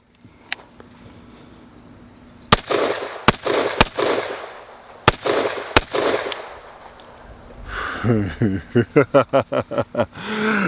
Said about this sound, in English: Let's just shoot some more ammunition